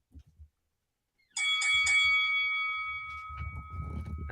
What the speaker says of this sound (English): the boxing bell